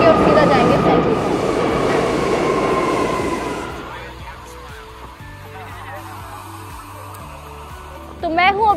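A New York subway train rumbles loudly through the station for the first few seconds, then fades into quieter platform clatter and hum, with a brief sharp squeal near the end.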